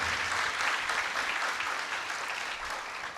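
A church congregation at Sunday Mass applauds, a steady, fairly full round of clapping that carries evenly through the short stretch with no voices over it.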